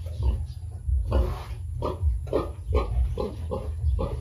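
Piglets on a farm squeal loudly in repeated sharp bursts while being injected with iron, a rhythmic series of close, harsh cries over a low background rumble.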